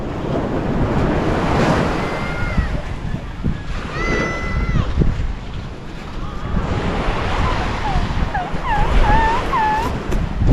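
Broad, steady surf rushes onshore with wind buffeting the microphone, while voices chatter intermittently nearby.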